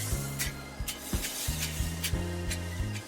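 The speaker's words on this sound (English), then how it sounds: "I'm going to spray the pan with some butter instead of using actual butter." Butter-flavored cooking spray is spritzed onto a pan in a series of short, sharp hissing bursts, roughly ten in quick succession, heard close over a steady low humming background.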